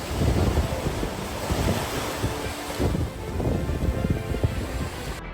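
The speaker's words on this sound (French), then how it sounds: "Des vagues marines s'infiltrant sous le sol ont transformé une maison à Guangdong en Chine, en fontaine" Sea waves seep up beneath a house in Guangdong, China, spouting like a fountain, heard as churning, surging water with irregular gushes and heavy wind buffeting on the microphone throughout.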